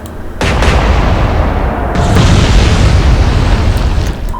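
Battleship naval guns fire in the naval combat game Atlantic Fleet, a loud booming blast that rolls into a long, sustained rumble, with a second heavy report layered in partway through.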